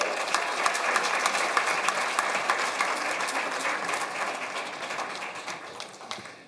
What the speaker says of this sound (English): thank you for that warm round of applause for our wonderful volunteers